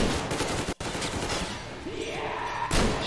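Enemy gunfire in the video game Metro Exodus, a dense rattle of shots filling the clip with one brief gap near the start and a louder burst at the end.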